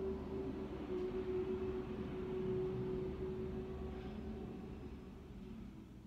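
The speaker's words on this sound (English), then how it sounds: "Thank you, garbage truck." A garbage truck outside rumbles steadily with a low engine drone and a faint sustained hum, heard from indoors at a moderate distance, continuous for several seconds with no talking.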